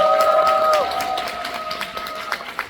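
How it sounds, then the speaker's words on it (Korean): Theater audience applause after a musical's closing performance, with scattered claps fading in under a sustained tone, light and somewhat distant, with crowd noise behind. "큰 박수 부탁드리겠습니다."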